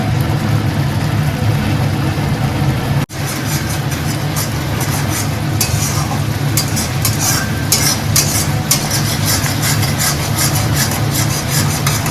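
Spice paste for a Bengali parshe fish curry stirred and fried steadily in a pan, a continuous close scraping and sizzling bed with a brief dropout partway, no talk.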